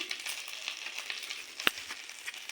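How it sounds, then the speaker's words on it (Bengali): Whole cumin seeds and dried red chillies frying in hot oil: a soft, steady crackling sizzle with scattered small pops and one sharper spit, fairly quiet and close, with no talking. "তাতে আমি দিয়ে দেব গোটা জিরে, গোটা শুকনো লঙ্কা,"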